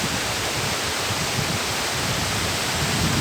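Sherpe-Napne waterfall at Vaibhavwadi in Sindhudurg, a drop of black rock about eighty feet deep, gives a steady, even roar of rushing water that fills the whole moment with no pauses or voices.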